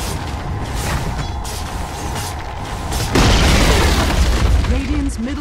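Dota 2 middle tower destruction: a deep boom lands about three seconds in and carries on as rumbling debris noise, layered over steady in-game background sound and a brief announcer voice.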